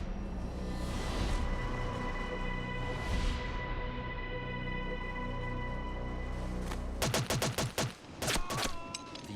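Gunfire in a dramatized reenactment of the Entebbe raid: after a sustained engine drone, a rapid burst of sharp shots cracks out in quick succession, loud and close, followed by a few more scattered shots.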